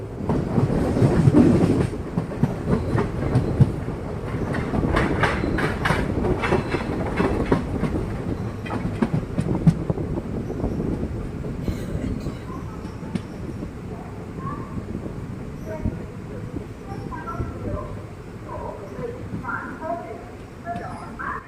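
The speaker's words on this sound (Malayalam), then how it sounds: "കൊല്ലം ജംഗ്ഷൻ എറണാകുളം ജംഗ്ഷൻ മെമു ട്രെയിനാണ്" A Kollam–Ernakulam MEMU passenger train rumbles along the rails with rhythmic clacking, loud at first then fading to a steadier, quieter roll.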